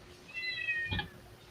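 Faint domestic cat meow, a single short rising call followed by a soft thump, heard alone against quiet room noise with no talk.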